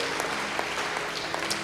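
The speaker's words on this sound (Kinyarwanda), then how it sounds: "Tuguhaye amashyi menshi n'impundu nyinshi kugira neza" Church congregation applauding during a service, dense steady clapping throughout this brief moment, fairly close and even in loudness.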